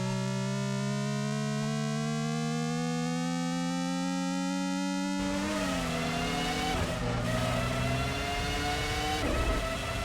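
Car engine in the Revs racing game on a home computer, revving high with a steady harmonic whine that shifts pitch under braking and gear changes, loud and continuous, with rougher noise in the second half.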